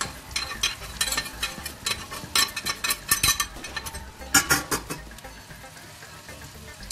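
Onion sautéing in a pan for a pork goulash, a steady sizzle broken by repeated clinks and scrapes of a utensil stirring against the pan, close and moderately loud.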